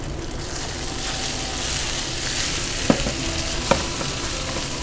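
Sage leaves sizzle steadily in browned butter in a frying pan, a continuous close crackling hiss with two brief sharper pops and a light stir, no voices.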